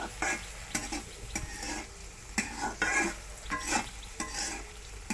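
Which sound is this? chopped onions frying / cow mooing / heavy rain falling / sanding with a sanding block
chopped onions frying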